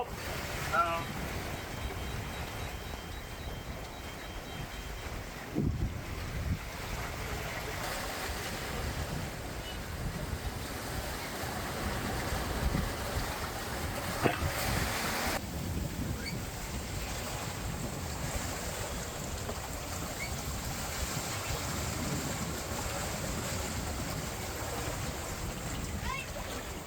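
Strong following wind of about 12–15 metres per second and rushing waves on a family sailboat on the open Pacific, a steady broadband roar filling the whole stretch, with some faint voices underneath.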